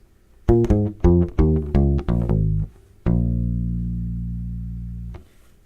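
A short U-Bass lick ending a piece: about nine quick plucked notes walking downward, ending on a long low note that rings and slowly decays.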